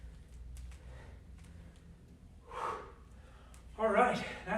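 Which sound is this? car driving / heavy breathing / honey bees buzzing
heavy breathing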